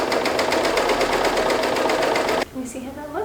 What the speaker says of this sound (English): So let's sew this up really quickly